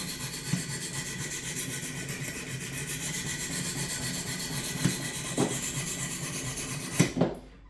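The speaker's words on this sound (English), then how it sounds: "Form a burr with this first stone." Knife blade drawn across a Wicked Edge sharpening stone while raising a burr, a steady close-up rasping rub with a few louder strokes near the end.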